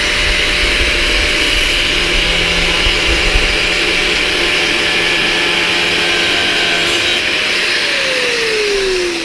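A power tool cuts through a moped frame in a workshop, a steady loud whining drone that holds for several seconds before the pitch drops as the tool spins down at the end.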